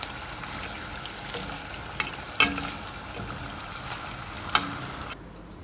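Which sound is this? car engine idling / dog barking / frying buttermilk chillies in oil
frying buttermilk chillies in oil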